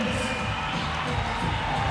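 A crowd cheers and shouts steadily through a weightlifting competition, egging on an athlete attempting a final bench press rep against the clock, a continuous dense roar with no clear pauses.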